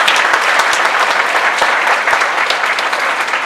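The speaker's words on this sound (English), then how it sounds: "Give those people a round of applause." An audience at a school assembly honoring veterans applauds in a loud, dense burst of hand claps that is sustained and steady throughout, with a few sharper individual claps standing out near the front.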